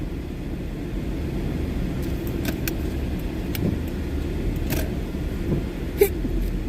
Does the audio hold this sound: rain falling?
no